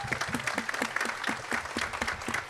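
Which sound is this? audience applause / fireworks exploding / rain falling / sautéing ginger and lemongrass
audience applause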